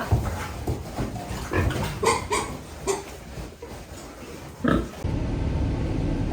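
Pigs and piglets on a farm grunt and squeal in short irregular bursts, fairly close, with a dog-like whimper mixed in and steady background noise.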